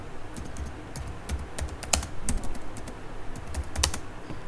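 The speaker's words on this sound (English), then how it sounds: "So just type here the command sudo apt remove." Quick, uneven clicking of keys as a terminal command is typed on a computer keyboard in Ubuntu, close and fairly loud with no talking.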